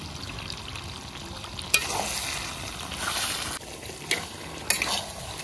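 Chicken sizzling in a pan while whole cardamom and cloves go in during the kosha stage, a steady close frying hiss broken by a few sharp stirring scrapes and clinks.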